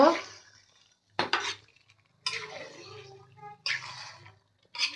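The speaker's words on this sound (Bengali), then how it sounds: "এখন এই যে আমি মশলার সাথে গোশটা মিশাই নেব" Meat being mixed with spices in a pot for a picnic cookout, heard as a few loud clattering scrapes and knocks of a utensil against the metal pan, with quieter gaps between bursts.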